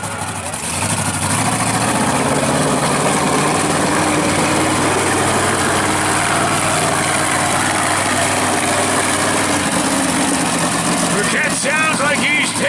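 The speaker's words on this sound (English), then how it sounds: "Buchanan sounds like he's taking something out of that engine for you." Monster truck engine revving hard during a freestyle run at an Outlaws of Motorsport show in Brandon, Manitoba, a loud, sustained roar that holds steady for the whole stretch, with a public-address announcer talking over it.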